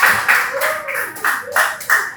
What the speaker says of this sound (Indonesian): sudah mencoba dengan tepuk tangan untuk saya